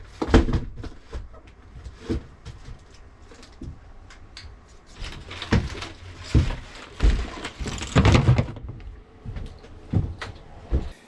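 Drawers in a camper van are pulled open and pushed shut, giving a quiet run of scattered clunks, knocks and sliding rattles with no one speaking.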